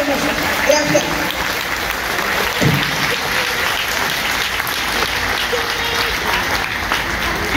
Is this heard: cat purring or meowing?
no